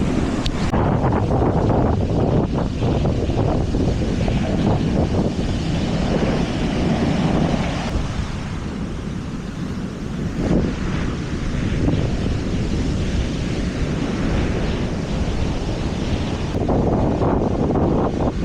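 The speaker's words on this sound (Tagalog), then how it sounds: "Malaki ng alon, grabe." Loud, continuous roar of big crashing surf on a beach during a storm, mixed with heavy wind buffeting the microphone, surging and easing over time with no voices.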